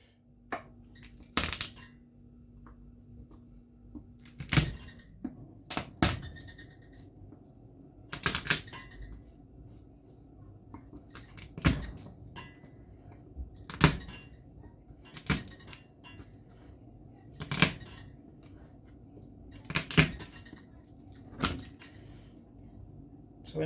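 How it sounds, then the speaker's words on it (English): A knife chops garlic cloves and key lime on a cutting board in sharp, irregular knocks spaced a second or two apart, close and fairly crisp over a quiet room. "let me start cutting things up"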